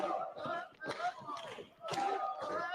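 Wrestling crowd in an arena, a loud rowdy roar with shouts and chanting that swells in bursts, surging twice and dipping briefly between them.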